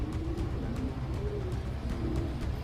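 A crested show pigeon gives soft, low repeated coos in a steady rhythm, close by and moderately loud, with no talk over it.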